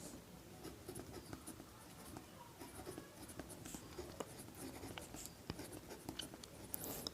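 Pen or marker writing out a math solution for a Class 10 polynomials problem, a steady scratchy patter of strokes at close range, fairly quiet, with no talk.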